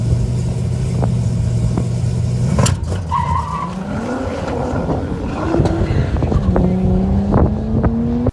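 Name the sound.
ZZ502 big block Chevy engine running with lean misfire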